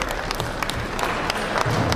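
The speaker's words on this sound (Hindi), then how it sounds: "एक बार उन सबके लिए जोरदार ताली आनी चाहिए" Applause from the audience at a railway goods-shed workers' union convention cultural program, a steady, dense burst of many hands clapping together that holds for the whole stretch with a slight swell near the end.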